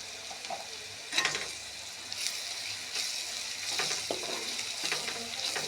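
Onions frying in a pan with chili powder and turmeric, a steady crackling sizzle broken by several sharper stirring scrapes, close and without speech.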